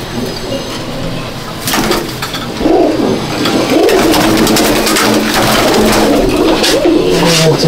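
Young pigeons in a loft coo repeatedly, close and loud, building into a steady chorus of throaty calls with no talk over them.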